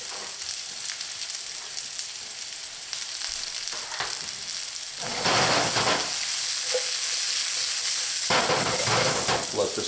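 Garlic, carrots and onions stir-frying in a hot pan, with a steady close sizzle that swells louder about halfway through as more vegetables hit the oil, plus brief stirring scrapes.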